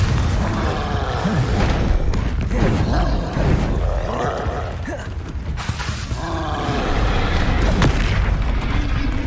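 Confringo, a fire spell in the Hogwarts Legacy video game, sets off a continuous, loud, booming blast with a rumbling roar and layered battle effects that sustain without pause.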